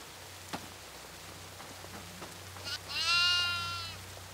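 A goat bleats once, a drawn-out wavering cry in the horror game Devour, following faint scattered thuds and taps over a low steady hum.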